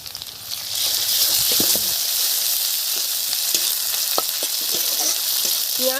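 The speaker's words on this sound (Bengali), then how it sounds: "দেখুন পেঁয়াজটা খুব সুন্দর করে ভেজে নিয়েছি, একদম নরমও হয়ে গেছে। এখন আমি আদা রসুন দিয়ে দেব।" Onion fries with ginger and garlic in a pan over low heat, making a steady, close sizzle with scattered crackles and the occasional scrape of stirring.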